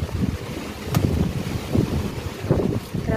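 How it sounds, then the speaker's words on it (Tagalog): Strong gusting wind buffets the microphone outdoors among mango trees, a steady rough roar with repeated louder thumps and surges, no voices. "Hangin, oy."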